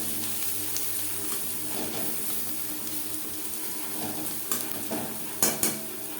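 Chopped onions fry to a reddish brown in a pan for Bengali-style red amaranth greens, giving a steady close sizzle with a few sharp utensil clinks near the end and no talking.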